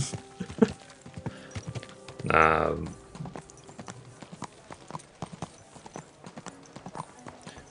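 Steady horse hooves clip-clopping at a walking pace in the video game Kingdom Come: Deliverance II, with a brief louder rumble partway through.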